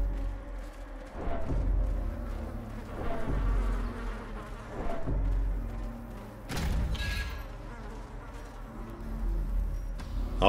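Bees swarm around a hive in the dark fantasy game Darkest Dungeon, a steady low droning buzz with a few dull thumps on top and no talking.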